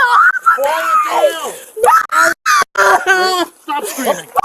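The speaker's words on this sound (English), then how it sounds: "Stop screaming." A woman screams and wails in distress during a police traffic stop, her cries rising and falling in shrill, strained bursts with short breaks, loud and close, mixed with her own yelling.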